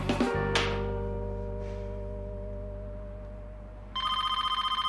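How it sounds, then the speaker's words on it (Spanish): A telephone bell rings with a bright, rapid trilling burst near the end, after a few seconds of sustained musical tones. "Está sonando el teléfono."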